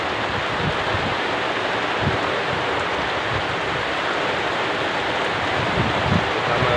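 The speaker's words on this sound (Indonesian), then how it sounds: "hujannya sangat lebat kawan" Heavy rain pours steadily beside a hut at the edge of a crater, a dense continuous hiss with soft low thumps, close and unbroken, with no voices.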